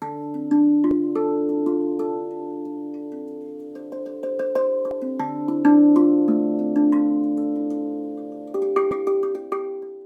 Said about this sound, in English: The sound of a RAV drum immediately calms me down.